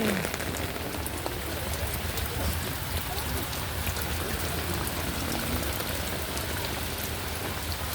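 Steady, dense rain pattering on a surface, continuous and fairly loud throughout, with a faint voice briefly underneath.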